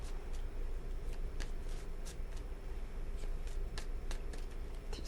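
Tarot cards being shuffled in a steady run of soft papery riffles and flicks, close and fairly quiet over a low background hum.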